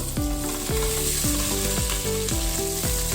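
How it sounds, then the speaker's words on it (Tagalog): Chopped onion frying in hot oil in a pan for kofta meatball curry, a steady close sizzle with repeated stirring scrapes, no voices. "Let it fry until little bit brown the color"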